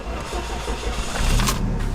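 A key-started Saab 900 Turbo engine cranks briefly and fires up, settling into a low, rough idle rumble that swells toward the end, heard close by without speech.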